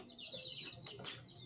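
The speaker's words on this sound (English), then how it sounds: "Why are all the chickens here?" Soft, close clucking from chickens, a few brief calls over a quiet background.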